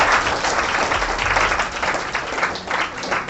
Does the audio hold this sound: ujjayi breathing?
no